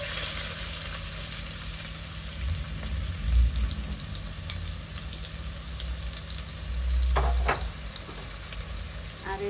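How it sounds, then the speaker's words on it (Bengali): Chopped onion and garlic frying in hot oil, a continuous loud sizzle close up, with stirring clatters and brief splashy bursts rising partway through. "তেল গরম হয়ে গেছে এই পেঁয়াজ আর রসুন পেঁয়াজ রসুন হ্যাঁ দিয়ে দাও"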